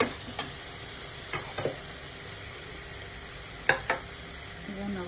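Tomato and chilli powder are stirred in a hot pan for Muslim-style mutton biryani, giving a steady low sizzle broken by a few sharp spoon clicks and scrapes against the pan, close and quiet.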